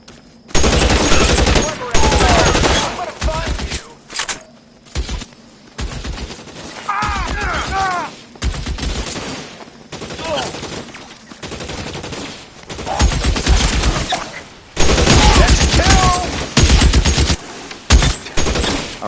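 Dense video game gunfire in a PS4 shootout, with bursts of automatic fire and rapid shots coming loud and close in long stretches, broken by short pauses, with shouted voices mixed in.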